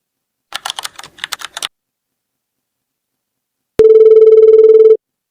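A burst of quick clicking taps as a number is keyed in, then after a pause a telephone tone rings out, steady and clear for about a second before stopping.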